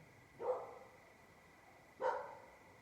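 Two separate barks from a dog somewhere outside in the dark, each one short, the second about a second and a half after the first. They sound moderately distant and stand out against a quiet, faintly hissing background.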